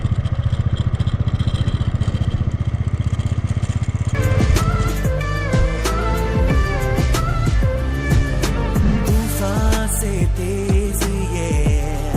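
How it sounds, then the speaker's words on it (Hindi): A motorbike engine strains along a sandy road in Ladakh, a loud, close, rough idle that opens into a steady revving drone, with music playing over it for most of the stretch. "हमारा रेतीला रास्ता है, मुश्किल से चलती है बाइक रेती पे।"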